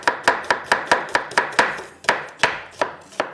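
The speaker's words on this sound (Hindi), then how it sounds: "और इसको स्लाइस में कटिंग करेंगे।" Food sliced with a knife on a cutting board while preparing mutton masala gravy, a steady series of about fourteen sharp, close chops in an even rhythm that slows slightly toward the end, with no talk.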